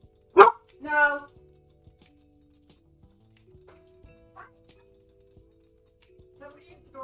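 A dog indoors gives two short, loud barks close by, followed by quieter thumps and small vocal sounds over mostly quiet room tone.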